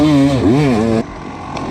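Dirt bike engine revving hard during a cross-country race, a loud close tone rising and falling in pitch for about a second, then cutting off to a low idle rumble.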